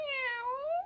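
A Ropet robot pet gives a single soft, rising-and-falling electronic meow, close and clear with no talking.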